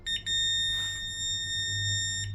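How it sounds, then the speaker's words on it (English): A Weiser smart lock emits a loud, steady electronic beep held for about two seconds to confirm a code change, preceded by a couple of short chirps and a faint tap, with no talking. "Long beep means it's done."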